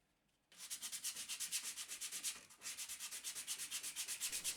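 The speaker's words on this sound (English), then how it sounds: "I'm just going to go over it with some sandpaper" Sandpaper rubs back and forth over a painted grill part in steady, rapid strokes, starting after a brief quiet moment, close and fairly loud with no talking.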